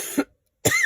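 Two short coughs from a person, a sharp burst followed after a brief silence by another, close and clear.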